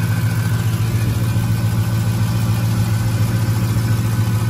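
A Bentley car engine, either a Bentayga or a Continental GT, idles steadily and loudly nearby, a constant low rumble that holds even throughout.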